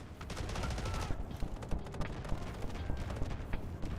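Rapid gunfire bursts and crackling shots fill a chaotic R.E.P.O. video game fight, dense and continuous with sharp peaks throughout.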